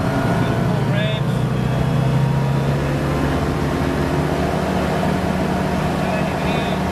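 A propeller aircraft engine on a ground test run roars at full revs, a loud, steady mechanical drone with a constant low hum that continues unbroken, with faint voices underneath.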